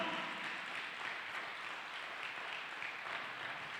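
A church congregation applauds together during a sermon, producing a steady, even wash of clapping at moderate distance that holds level throughout without any voices.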